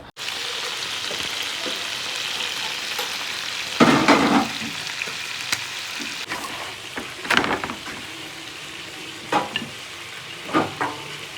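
Marinated food frying in a pan at home, a steady soft sizzle running throughout with several louder crackling bursts and stirring clatters spaced irregularly, no talking.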